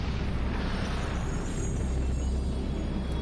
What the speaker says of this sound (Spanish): El universo nació a partir de una gran explosión inicial llamada en inglés Big Bang